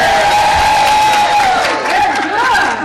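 A theatre audience cheers and calls out at a 2017 Purim play about Esther, a dense, loud crowd roar with shrill voices rising above it, held steady for about three seconds.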